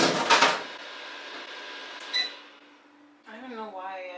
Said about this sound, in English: me just getting scared by my microwave